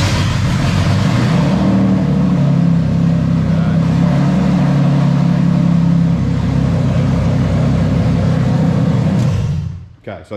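A Toyota or Lexus engine cranking with its mass airflow sensor unplugged, a loud, steady starter churn lasting about nine seconds before cutting off abruptly, without catching into a run.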